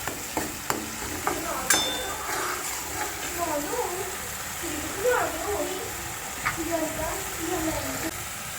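Masala sautés in a pan, a steady sizzle with scraping stirs and occasional clinks, under a voice talking nearby.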